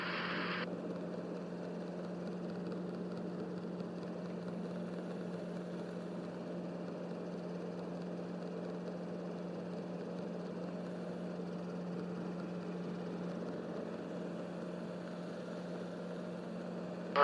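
A Robinson R-22 helicopter climbs in flight over Hayward, heard from inside the cabin as a steady, even engine and rotor drone with a low continuous hum and no talking.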